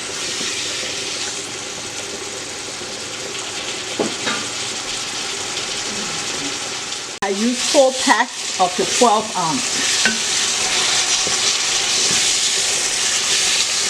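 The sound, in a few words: frying collard greens sizzling in a pan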